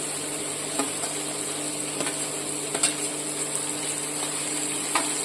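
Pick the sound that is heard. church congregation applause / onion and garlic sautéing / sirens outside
onion and garlic sautéing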